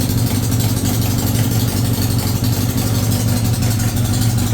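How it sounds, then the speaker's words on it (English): A Yamaha XJ900F motorcycle engine running steadily at its first start-up, a loud, close, continuous low rumble with mild rises in revs and no talk over it. "Alright, let's give it some rev."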